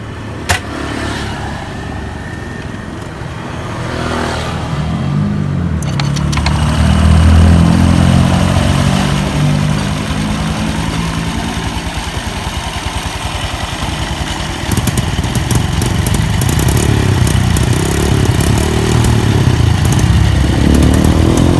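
A motorcycle engine cranks and catches, then idles and revs unevenly with a rough, throbbing drone that rises and falls, close and loud throughout, after maintenance on the bike.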